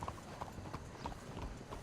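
A horse trots along in Red Dead Redemption 2, its hooves striking in a steady, even clip-clop rhythm at close range, with soft ambient noise underneath and no speech.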